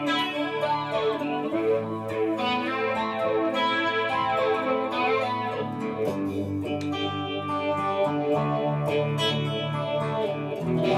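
A trumpet played through a cheap effects unit set to a wet, washy reverb, sustained processed tones with a shimmering, smeared tail, moderately loud and continuous with no speech.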